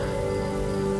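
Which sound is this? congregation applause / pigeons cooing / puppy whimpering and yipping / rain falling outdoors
rain falling outdoors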